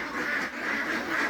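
Ducks on a duck farm quack steadily in a dense, continuous chorus, many birds calling at once close by, with no voices.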